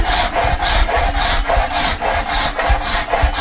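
Rhythmic scraping of a glass shard across wood to remove sanding marks, a rasping back-and-forth stroke repeated about twice a second, close and loud.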